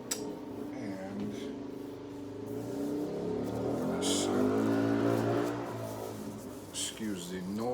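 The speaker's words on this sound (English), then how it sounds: "excuse the noise, somebody's riding a bike outside" A motorbike rides past outside, its engine revving and rising in pitch, then swelling and fading at a moderate distance, heard indoors.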